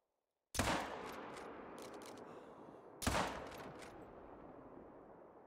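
Two loud rifle shots from a Coachmate Lever .45-70 in the hunting game Hunter Call of the Wild, about two and a half seconds apart, each a sharp crack followed by a long rolling echo, with no talking.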